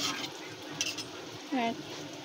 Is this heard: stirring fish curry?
yes